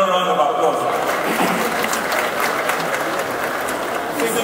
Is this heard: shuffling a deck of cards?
no